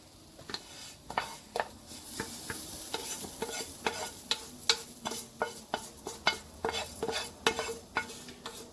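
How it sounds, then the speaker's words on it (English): Fried rice being stirred with browned macaroni in a pan for Cameroonian fried rice: a spatula scrapes and clacks in a regular rhythm over a soft, continuous sizzle, close and alone. "And then now stir the rice"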